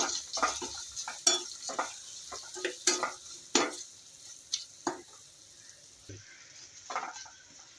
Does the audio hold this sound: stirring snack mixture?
yes